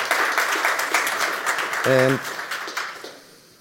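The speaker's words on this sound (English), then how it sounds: "Another round of applause for Richard" A conference audience at a corporate symposium gives a round of applause, a dense patter of clapping with a brief voice cutting through midway before it tapers off.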